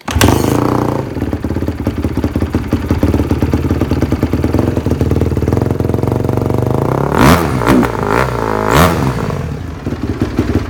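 Cold Apollo 250 dirt bike engine running close by with a rough, clattering idle, then sharp revs that swell and fall in quick bursts, loud and without talk.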